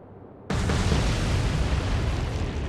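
Torpedo hits explode against a ship in the naval video game Atlantic Fleet, a sudden loud blast that erupts and then sustains as a long roaring rumble.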